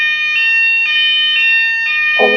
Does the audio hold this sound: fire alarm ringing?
yes